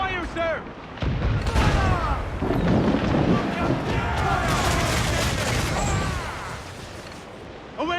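Ship mortars fire during a naval battle in Assassin's Creed 4 Black Flag. A heavy boom is followed by a rolling roar of cannon fire and wind, with shouted voices and gull-like cries over the din.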